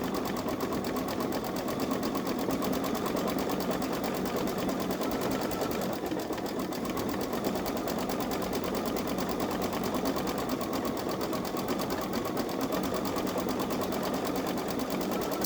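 A Baby Lock Solaris embroidery machine stitches out an Easter design with a fast, steady mechanical hum and rapid needle chatter, constant and close for the whole stretch with no voices.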